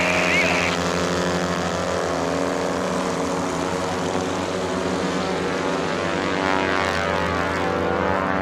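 Racing airplanes powered by Titan 370 engines drone at the Stihl National Championship Air Races, a loud, steady propeller engine roar holding an even pitch throughout.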